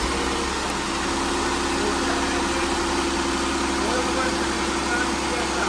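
Jeep JK engine running at a steady idle, a continuous loud mechanical drone with constant vibration and hum, close up, no change in pace throughout.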